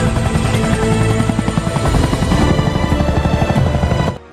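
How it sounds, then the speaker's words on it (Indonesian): A helicopter's loud, steady rotor chop with a turbine whine fills the scene, its rapid rhythmic beating continuing for about four seconds before cutting off abruptly. "langsung diamankan ke dalam helikopter untuk dikirim ke penjara khusus di"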